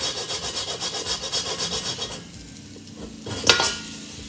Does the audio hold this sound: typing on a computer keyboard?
no